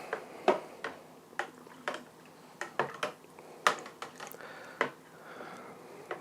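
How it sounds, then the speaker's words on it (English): Spoon stirring a heaped teaspoon of yeast into a home brew, giving sparse, irregular clinks and taps against the container, close and fairly quiet with no talking. "Stir it in."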